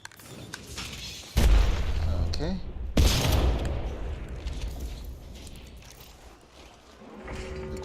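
A grenade blast in the Apex Legends battle royale game, with loud booming detonations and bursts of gunfire rolling out, followed by lingering rumble and softer game sounds.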